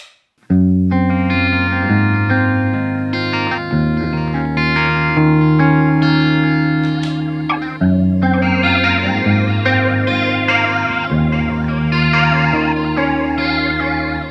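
An electric guitar through a Mooer Blacktruck multi-effects unit on an ambient setting plays sustained chords drenched in shimmering chorus, reverb and echo, forming a lush, continuous wash of sound with no talking.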